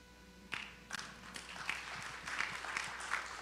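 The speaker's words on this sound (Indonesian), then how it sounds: "Tepuk tangannya bisa lebih semangat enggak?" Scattered clapping in a church audience starts quietly, then builds into a sparse, uneven round of applause with sharp individual claps, fairly faint and roomy.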